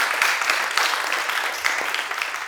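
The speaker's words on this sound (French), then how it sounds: "applaudissements pour Dez Altino" A studio audience applauds for artist Dez Altino, a short burst of moderately loud, steady clapping from a small group.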